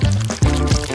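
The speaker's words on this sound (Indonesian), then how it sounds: "kamu harus membuka cetakan dan mengisinya dengan hati-hati dengan es krim" Ice cream poured carefully into an open mold, a close, continuous thick-liquid pour with a few soft surges over a steady tonal background.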